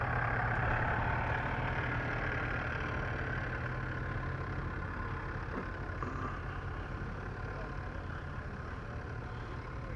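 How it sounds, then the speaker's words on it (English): A big heavy diesel tractor engine idles at an outdoor tractor show, a steady, unbroken low rumble holding at an even level from start to finish. "Big heavy diesel engines in them."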